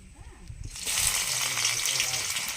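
Whole cumin seeds drop into hot oil in a home kitchen, a bright steady sizzle that starts abruptly after a quieter moment with faint voice-like sounds, then holds close and even.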